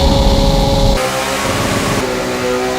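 The V8 engine of an all-wheel-drive, rally-style 1965 Mustang drones loud and steady, its sustained tones shifting slightly as it runs, with no voices.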